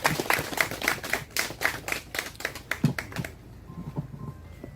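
Audience applause at an outdoor memorial ceremony held in front of a historic old house, a scattered round of claps from a modest crowd that thins out and stops partway through, leaving faint quiet.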